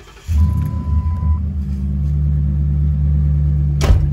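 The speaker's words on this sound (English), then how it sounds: "Now the car crunk up." A Ford Crown Victoria P71's engine cranks and catches at once, then settles into a steady, loud low idle rumble that holds to the end, with a brief thump near the close.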